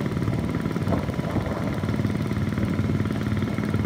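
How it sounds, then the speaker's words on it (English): A boat engine runs smoothly and steadily, a constant low rumbling drone that stays even throughout without voices. "Engine's running beautifully."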